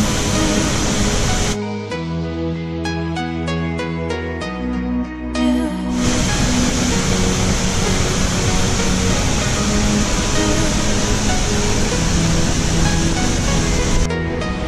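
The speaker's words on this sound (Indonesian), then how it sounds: "Ini guys air terjun gitu." A waterfall at Pria Laot in Sabang pours in a steady, loud, broadband rush, broken for a few seconds early on by a brief tonal passage before the roar resumes unchanged.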